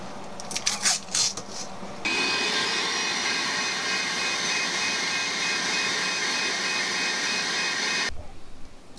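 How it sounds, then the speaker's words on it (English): A household vacuum cleaner runs steadily for about six seconds, a loud continuous whine and rush starting abruptly after some brief handling noises and cutting off near the end. "I think it's gonna fit like pretty perfectly within my vacuum."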